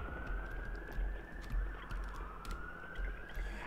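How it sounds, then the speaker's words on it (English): Police sirens wail in the video game Lego City Undercover, a faint rising and falling tone heard over a low rumbling background with scattered clicks, no talking. "I gotta hear the sirens all the time"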